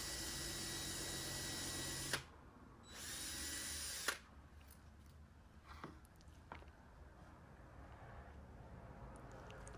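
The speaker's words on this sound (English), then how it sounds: "I'm drilling the pilot holes there." A power drill bores pilot holes in wood for rustic lanterns in two loud, steady whirring bursts, followed by a few sharp knocks and clicks of handling over faint background noise.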